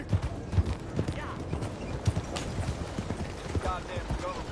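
Horse hooves clip-clopping in Red Dead Redemption 2, a string of distinct, moderately close hoofbeats in an uneven walking rhythm, with a voice shouting over them and a brief whinny-like sound near the end.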